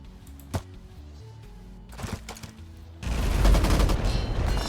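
Gunners fire guns in the video game Empires Shall Fall: a few separate sharp shots come first, then a dense, continuous burst of rapid gunfire takes over for the second half, loud and close.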